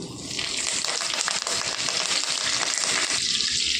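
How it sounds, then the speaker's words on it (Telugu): Mustard seeds, cumin and curry leaves hit hot oil in a pan and sizzle steadily, a loud, dense crackling hiss that holds without pause for several seconds, no talk over it. "నూనె అయితే కొద్దిగా వేడెక్కిందండి. ఆవాలు, జీలకర్ర అండి, కరివేపాకు."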